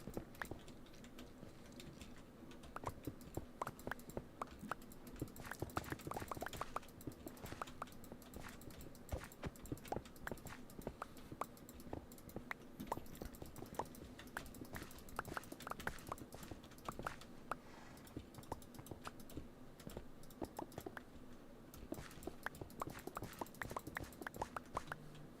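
Faint, quiet hoofbeats clip-clop from a horse in Minecraft, a steady walking rhythm of light taps that continues without talk.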